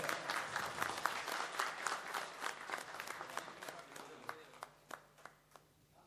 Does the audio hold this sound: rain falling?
no